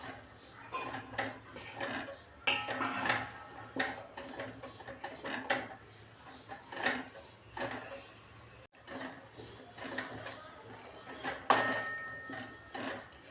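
Grated dried coconut and dry dates being stirred and dry-roasted in a pan for urad dal laddus, giving repeated close scraping and clinking of a utensil against the metal, fairly quiet and steady with no talk.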